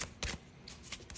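Oracle cards shuffled by hand for a card reading: two loud riffling bursts followed by softer, intermittent flutters, close and clear with no talking.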